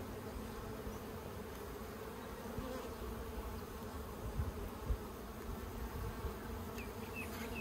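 Honey bees fly in large numbers around backyard hives in Australia, a dense, steady droning hum filling the air without pause, with a few soft knocks.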